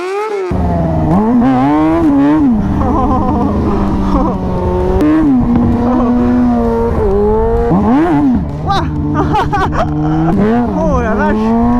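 A motorcycle drifting on a race circuit, its engine revving hard with rising and falling pitch across repeated acceleration runs, loud and close for the whole stretch, with possible tire squeal and voices in the background.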